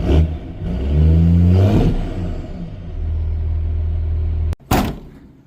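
A cheap diesel pickup truck engine runs with a steady low rumble and swells through a couple of revs, then cuts off briefly before a sharp burst near the end.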